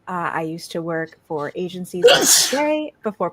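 A single sharp sneeze bursts out in the middle of a VTuber's spoken self-introduction, with talking continuing just before and after it.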